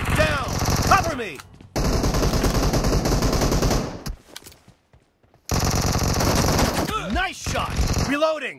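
Rapid automatic gunfire from a team deathmatch video game, loud sustained bursts with a short pause mid-way, mixed with shouted voices and radio chatter over the shooting.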